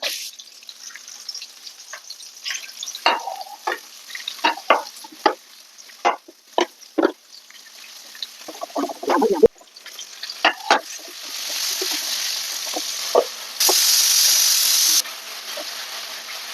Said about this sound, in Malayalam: അപ്പം അങ്ങനെ നമ്മുടെ തക്കാളി വെളുത്തുള്ളി പേസ്റ്റും എല്ലാം ഇട്ട് ശരിയായിക്കൊണ്ടിരിക്കുന്നു കേട്ടോ നമ്മുടെ ചിക്കൻ കറിയുടെ കൂട്ട്